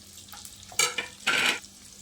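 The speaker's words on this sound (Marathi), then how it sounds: "लसूणसुद्धा आपल्याला यामध्येच असा भाजून घ्यायचा आहे" Garlic, green chillies and cashew pieces roasting in a pan, with two short bursts of stirring and frying sizzle over a quiet background.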